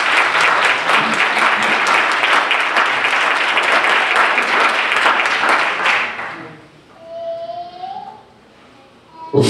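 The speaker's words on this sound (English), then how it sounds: "Somebody clap your hands for that." A church congregation applauds loudly for several seconds during a deacon ordination, then the clapping fades out into quieter room sound and a brief voice.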